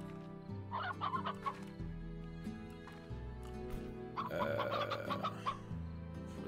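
Game chickens cluck in bursts over a steady synthesized music bed, two clusters of clucking on a Slime Rancher farm, moderately loud and with no talking.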